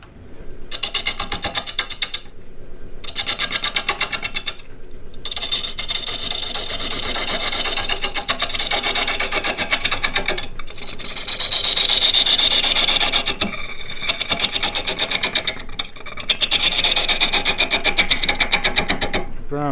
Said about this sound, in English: So what I have here is a detail gouge.